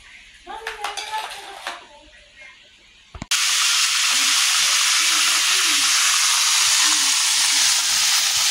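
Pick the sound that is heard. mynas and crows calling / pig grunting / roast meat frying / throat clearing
roast meat frying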